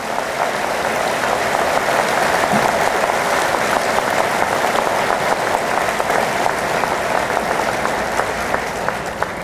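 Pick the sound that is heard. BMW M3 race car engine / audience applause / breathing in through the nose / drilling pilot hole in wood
audience applause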